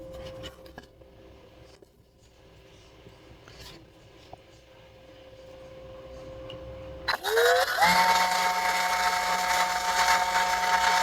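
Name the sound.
power drill drilling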